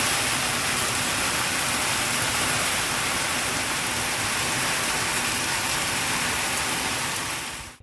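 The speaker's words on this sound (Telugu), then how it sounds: "ఈ వానం చూస్తేనే పానమంతా చల్లబడ్డట్టు అనిపిస్తున్నది కదా" Rain pours steadily in a dense, even hiss, close and constant for the whole stretch, ending in a sudden cutoff, with no voices heard.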